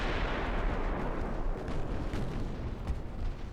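Heavy 17-inch battleship guns thunder in the naval game Ultimate Admiral Dreadnoughts, a dense, loud booming roar of artillery fire with rolling low rumble and sustained blast noise filling the whole moment.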